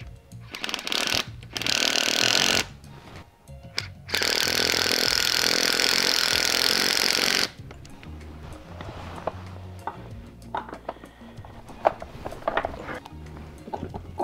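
A Makita pen impact driver hammers hex bolts into a chair during assembly, giving two loud bursts of rapid impacting, one short and one a few seconds long, followed by quieter handling clatter and small knocks.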